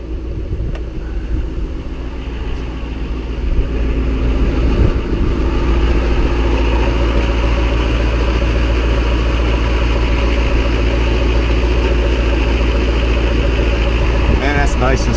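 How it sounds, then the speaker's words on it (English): A 2012 Shelby GT500 V8 runs at idle in sixth gear with the driveshaft spinning, giving a steady, loud low rumble with a faint whirring drone on top. Someone talks over it. "car wants to do 40 miles an hour at idle in 6th gear"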